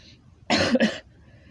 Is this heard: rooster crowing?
no